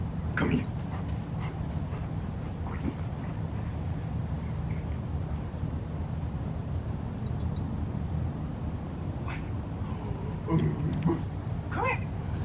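Several dogs whimper and give short yips and barks in scattered bursts over a steady low background hum, some calls close and others a little further off.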